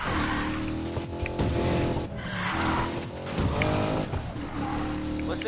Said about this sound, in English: This is actually my first run in the Corvette since I bought it for drift.